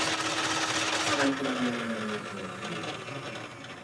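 A starter cranks an engine over with a steady, unusually fast and strained whine that runs unbroken for a few seconds, loud at first and easing slightly toward the end.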